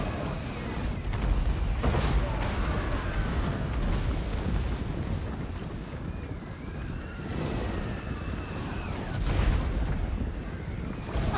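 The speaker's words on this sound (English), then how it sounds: "All those mortar shells in the back." Mortar shells firing in the Warhammer multiplayer battle with Ungrim's Slayers: dense, continuous rumbling booms and distant blasts layered into a steady battlefield roar, with faint whistling tones rising and falling over the din.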